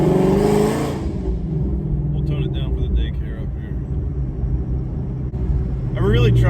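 A Ford Shelby GT350 engine rumbling loudly from inside the car, a deep steady drone that eases after the first second, then swells again near the end while a person talks over it.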